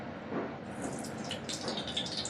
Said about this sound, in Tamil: இப்போ வந்து எண்ணெய் ஊற்றுக்கலாம்.